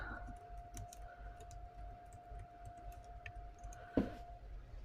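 Sparse, faint key clicks from a computer keyboard, a few isolated taps with one slightly sharper press near the end, set over a steady low room hum.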